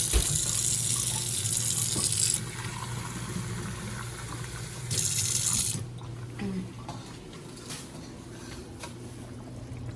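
A tap runs hot water with a steady hiss, cutting off and resuming in bursts, then stopping, leaving a low hum and faint clatter.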